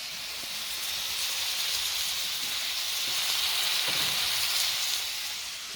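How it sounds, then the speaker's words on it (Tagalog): Sautéing ingredients for pancit cabagan in a pan, heard as a steady, fairly loud hiss and sizzle that holds evenly throughout with no voices. "Magigisa na po si Kuya."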